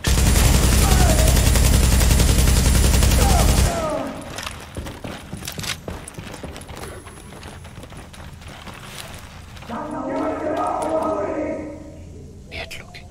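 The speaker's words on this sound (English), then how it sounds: "This machine gun is very good." Loud sustained machine gun fire in Tom Clancy's The Division rattles for a few seconds, then stops, leaving quieter game ambience and a voice talking.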